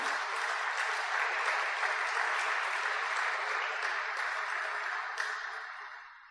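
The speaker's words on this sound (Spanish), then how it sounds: "Dele un fuerte aplauso a la presencia de Dios" A church congregation breaks into strong, sustained applause, a full, even roar of many hands filling the room for several seconds before tapering off.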